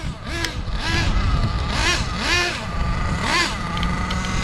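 A Losi LST nitro RC truck with a Dynamite .28 engine and two-speed transmission screams loudly nearby, its revs rising and dropping in repeated surges as it shifts gears on quick passes.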